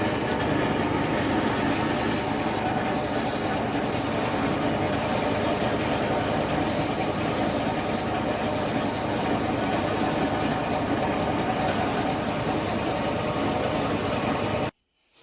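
A spray paint machine, used for painting Ganesh idols, runs nearby with a steady, loud mechanical hiss and hum, continuous without pause, cutting off abruptly at the very end.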